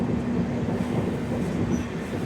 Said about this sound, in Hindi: हमारी ट्रेन पहुंच चुकी है।